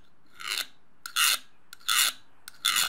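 A Vallorbe hardness test file is drawn across 1075 steel in four rhythmic strokes. Each produces a bright, raspy scrape, with short silences between them.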